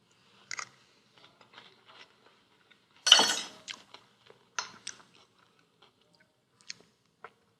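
Someone chewing a mouthful of Greek salad: soft, scattered crunches and clicks, with one louder burst of crunching midway, then a few quieter bites in near silence.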